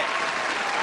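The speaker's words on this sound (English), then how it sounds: "round of applause for" Audience applause at a street skateboarding video premiere, a brief dense wash of clapping from a crowd, fairly steady and moderately loud.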